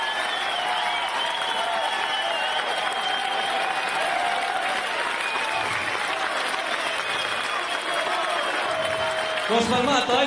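Sustained audience applause at a live stage show, a dense, steady clapping wash from a crowd, with a voice briefly rising over it near the end.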